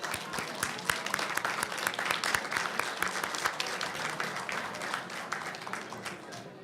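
Audience applause at an evening Board of Education reception honoring a retiring board member, dense sustained clapping from a room full of guests, steady and moderately loud throughout.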